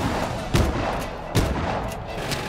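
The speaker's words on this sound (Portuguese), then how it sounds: "Tô levando tiro nem sei da onde" Gunfire in the video game Just Cause 3 plays as a dense, continuous barrage of shots with a few louder bursts standing out, loud and mixed throughout.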